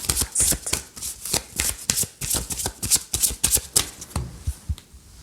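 Petit Lenormand cards being shuffled and cut, a close, crisp run of rapid riffling flutters and soft slaps in quick bursts with brief pauses, heard alone with no talking.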